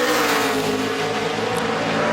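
A NASCAR Sprint Cup stock car on a qualifying lap at Richmond, its V8 engine roaring loud and steady close by with no pause and no talk.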